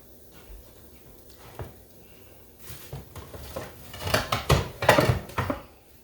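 Dishes and plates clatter as one is pulled from a kitchen cupboard, a sparse knock at first and then a busier burst of clinks and knocks toward the end, fairly close and with no talking.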